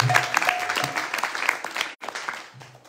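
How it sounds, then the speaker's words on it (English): An audience at a Dutch retreat day claps warmly to welcome two guests from South Africa, a steady round of applause with a brief pause near the end before the clapping resumes. "Clapping for them."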